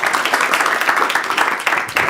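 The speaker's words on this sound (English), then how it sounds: "let's all give Nick a big round of applause" An audience applauding a lecturer at a talk on tidal disruption events, close and loud, a brisk dense patter of many hands clapping throughout the short burst.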